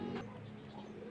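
A desi pigeon, held while colour is applied to its back, gives a short, low, throaty coo up close, quiet and continuous over a faint background.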